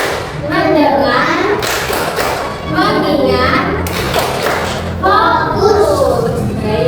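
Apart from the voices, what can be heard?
children's rhythmic focus clapping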